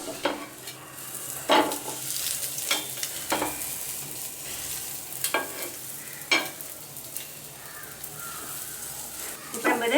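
An omelette cooking in a pan for omelette gravy, a soft steady sizzle broken by several sharp scraping and stirring knocks against the pan, close by with no talk.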